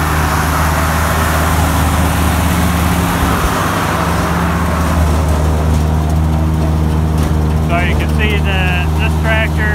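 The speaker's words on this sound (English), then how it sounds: "This tractor is running the wagon, unloading it." A loud, steady diesel tractor engine drones throughout with mechanical whine and rattling as it powers a silage wagon unloading, and a voice speaks briefly near the end over the machinery.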